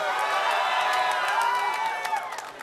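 Crowd at a VVV esports tournament cheering and whooping at an MLG Raleigh event, a loud, sustained wash of voices across the whole stretch that eases slightly at the end.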